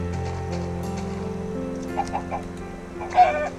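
Chickens cluck a few times in the Minecraft video game, short soft clucks over a steady droning game soundtrack, with a louder cluck near the end.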